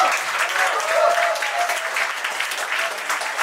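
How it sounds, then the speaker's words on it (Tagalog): Loud, continuous applause from an audience at a company kick-off training session, many hands clapping in a dense steady roar, with a faint voice briefly audible underneath. "Ang Hino naman ang palakpak nyo!"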